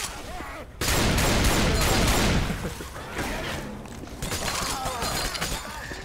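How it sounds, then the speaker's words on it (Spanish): Rapid bursts of gunfire from Left 4 Dead 2, loud and dense with sharp cracking, shattering impacts that thin out into scattered shots and a rough background rumble. "Balazos, qué pedo, ¿no?"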